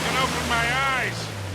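A waterfall at a hidden cave in the Uncharted: Legacy of Thieves Collection game, heard as a steady loud rush of falling water, with a voice talking over it for much of the time.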